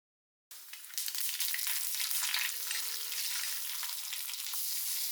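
Mustard seeds and dried red chillies tempering in hot coconut oil for a Kerala lunch curry, a loud, steady sizzle and crackle that starts abruptly and fills the clip without speech.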